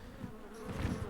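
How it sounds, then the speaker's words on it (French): Mosquitoes in the video game ARK: Survival Ascended whine in a faint, steady insect buzz that swells slightly louder toward the end. "Ah, les moustiques."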